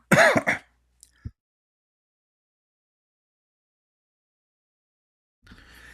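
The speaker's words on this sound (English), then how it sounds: "sorry, I was coughing." One short, close cough that sounds like a throat clear, followed by a long silence and faint noise near the end.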